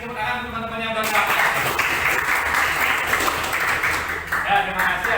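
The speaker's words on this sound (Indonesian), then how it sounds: "Kasih tepuk tangan teman-teman yang berkata." Schoolchildren in a classroom clap for a classmate who answered, a lively round of hand clapping lasting several seconds, with a teacher's voice at the start and end.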